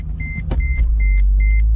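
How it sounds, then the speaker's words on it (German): A supercharged M113K V8 in a faulty Mercedes SL 55 turns over and settles into a deep, steady rumble, while a dashboard warning chime beeps repeatedly inside the car. "Auto startet."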